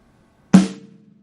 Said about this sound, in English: So number 3, we have snare drum and hi-hat at the same time.